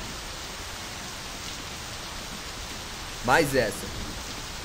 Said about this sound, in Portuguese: a chuva aqui tá um pouquinho mais forte